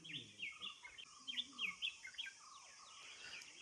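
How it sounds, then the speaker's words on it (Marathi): Birds chirp and twitter in quick, bright bursts at morning in a village in dense forest, several overlapping calls, soft and somewhat distant, with no talking. "आहा, पक्ष्यांचा सकाळ सकाळी किलबिलाट."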